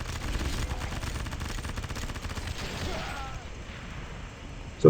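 Rapid shotgun fire in the zombie survival video game Left To Survive, a loud dense run of overlapping blasts through the first three seconds that then thins into scattered shots and game noise.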